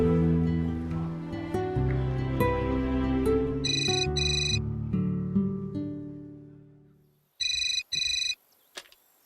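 A phone rings on an outgoing call, heard as two pairs of electronic ring bursts near the end after a stretch of musical background, fairly faint and close.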